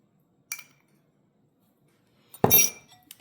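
Steak bites and Yukon Gold potatoes in garlic butter sauce are stirred in a pan, giving two short metallic clinks and scrapes of a utensil against the pan, the second louder and longer, close up with quiet between.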